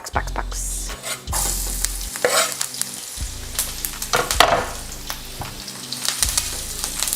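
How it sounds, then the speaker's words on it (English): Very fresh, juicy onion frying in a pan gives a close, bright sizzle, broken by several scraping stirs and clattering utensil strokes, with no speech. "I just want it to get a little brown, like a light brown. But mostly, we're looking for it to get translucent."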